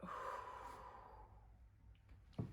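A long, steady exhalation during a guided breathing exercise, a soft airy breath out that slowly fades, ending in a brief sharper sniff or puff near the end.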